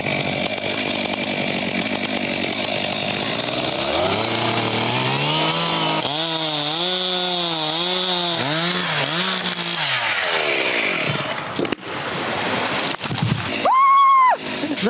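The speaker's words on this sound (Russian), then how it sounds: "Бензопила, штиль, предназначена вообще для вспомогательных работ при лесозаготовке." A Stihl chainsaw felling an 80-year-old pine at a logging site, loud close engine drone that rises and falls in pitch as it revs and cuts, with a crack and thud of the falling tree near the end.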